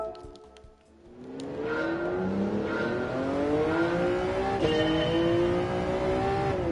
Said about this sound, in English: Oh, listen to that engine note